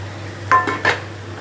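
Two brief metallic clinks of a spoon against a pot while mutton curry with yogurt is stirred and browned, close and fairly quiet, with a low steady hum underneath.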